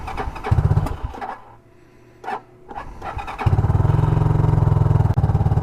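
A Condor motorcycle engine fires after a sputtering start, dies back briefly, then settles into a loud, close, steady idle with a rapid even thump; no one talks over it.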